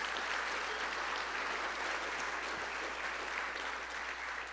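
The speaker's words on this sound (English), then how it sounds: "Give a round of applause for those folks" An audience at the DWU 2023-24 Athletic Hall of Fame ceremony applauds past inductees in the hall. The clapping is steady and continuous, heard at a distance and fairly faint, with no talking over it.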